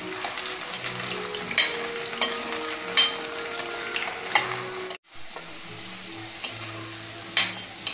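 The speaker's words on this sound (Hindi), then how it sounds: "ध्यान रखिएगा हमें आलू को इतना फ्राई करना है कि आलू अच्छे से पक जाए।" Potatoes fry in hot oil with a dense, crackling sizzle and repeated scraping stirs. The sound cuts out abruptly for a moment midway, then resumes just as busy, with no voices.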